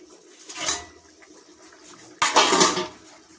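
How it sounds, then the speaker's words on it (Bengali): Boiled fish curry is poured from a pot in a kitchen, making two brief splashing, sloshing pours with a light clatter of the cookware between them and no speech. "মাছের ঝোল আমার ফুটে গেছে, এবার ঢেলে নেবো।"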